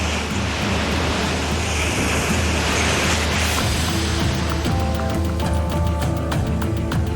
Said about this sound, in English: Bacon is desperate to avoid another set of waves